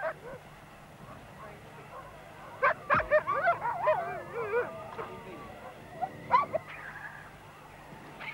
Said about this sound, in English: There are two dog teams here at Rothera, and when they're not working, they're tethered well apart on a long chain, so they can't fight.